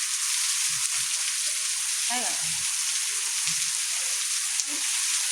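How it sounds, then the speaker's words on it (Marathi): Heavy, sudden rain pours down outside a house in a loud, dense, continuous hiss, with a brief voice speaking under it. "घरात येईल ते तर एवढा मोठा पाऊस आहे."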